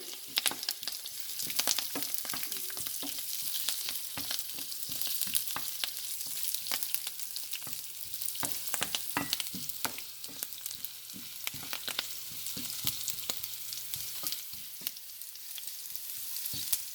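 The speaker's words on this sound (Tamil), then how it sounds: "பாருங்க நாங்கள் போட்ட கருவேப்பிலையும் நல்லா வதங்கிட்டுது" Curry leaves sizzling and crackling in hot oil for squid chukka, a steady frying hiss broken by many sharp pops and spatters, close and continuous with no talk.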